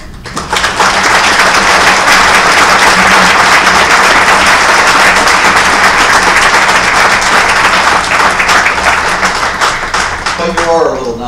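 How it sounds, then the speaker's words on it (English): Loud, sustained audience applause for Neil, a dense roar of clapping that holds strong for several seconds before easing slightly at the end, with a voice coming in over the tail. "I'd like for us to just applaud you for a moment"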